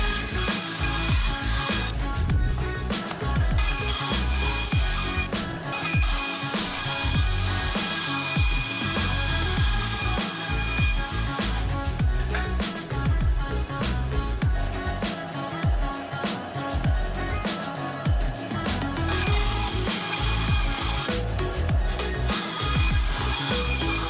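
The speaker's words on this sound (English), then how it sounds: "After I was finished cutting everything on the bandsaw" A bandsaw steadily cuts through plastic Rubik's cube puzzles with a continuous buzzing, rasping drone and small fluctuations, running loud and unbroken throughout.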